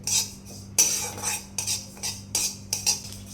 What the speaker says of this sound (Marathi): पांढरे तीळ भाजून झाले, चटचट आवाज यायला लागलेला आहे.